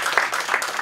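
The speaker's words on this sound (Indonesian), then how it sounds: "beri tepuk tangan yang meriah buat Tuhan kita" Brief burst of dense, close applause from a church congregation, steady and energetic throughout with no pauses.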